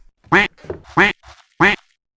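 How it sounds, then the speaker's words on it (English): A duck in the survival horror game Darkwood quacks three times, loud and close, with short nasal calls evenly spaced and softer muttering in between, alone with no talk. "Duck!"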